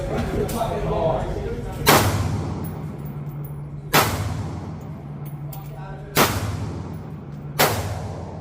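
Smith and Wesson AR-15 pistol chambered in 5.56 firing outdoors: four loud, sharp cracks spaced about two seconds apart, each trailing off in a long rumbling echo, with a steady background hum between shots.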